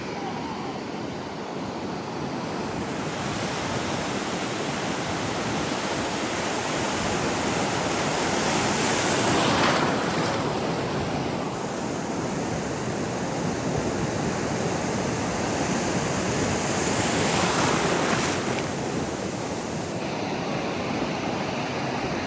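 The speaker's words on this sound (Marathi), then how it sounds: "तिथे बघा कसल्या मोठ्या मोठ्या लाटा आहेत" Big sea waves roll in at Shrivardhan beach in Maharashtra, a constant close roar of surf swelling into two louder crashing surges partway through, with no voices over the churning water.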